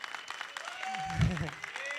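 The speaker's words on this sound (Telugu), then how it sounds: "సో ఇంకొకసారి మళ్ళీ గట్టిగా కొట్టండి ఈ నూరి కోసం." Audience clapping at a film press meet, a scattered patter of hands under a speaker's amplified voice, swelling briefly in the middle.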